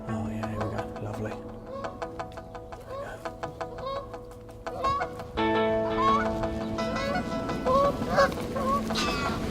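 Geese honking as a flock arrives over silhouette sock decoys, repeated calls close and loud, growing denser and busier partway through, with no talk.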